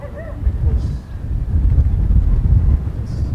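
Strong wind buffets the microphone in a low, rumbling roar in Rizal Province, Philippines, with faint voices now and then beneath it.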